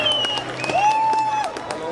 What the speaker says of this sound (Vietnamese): vỗ tay cổ động viên nào